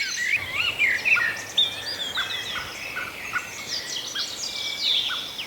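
A blackbird gives sharp, repeated chattering alarm calls amid a dawn chorus, bright chirps and whistles from several birds overlapping at moderate distance, with no talk.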